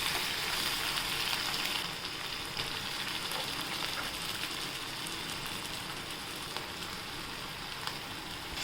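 Dill leaves sautéed in a pan for shepu bhaji, giving a steady, close sizzle with soft crackling that runs evenly throughout, no voices.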